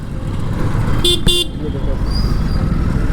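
Road traffic heard while riding a Yamaha MT-15 motorcycle: two short, sharp horn toots in quick succession cut through a steady engine and road rumble, with someone speaking over the noise.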